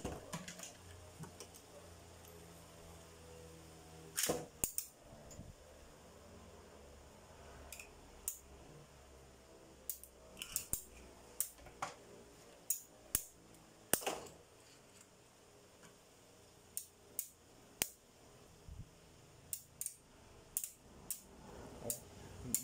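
Beyblade tops Bigbang Pegasis and Rapidity clash in a bootleg plastic stadium, giving scattered sharp clicks and clacks of collisions over a faint whirr, fairly quiet and without speech.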